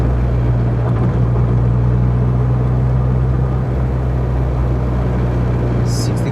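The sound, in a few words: car engine sputtering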